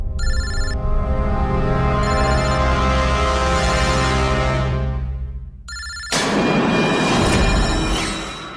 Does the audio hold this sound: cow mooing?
no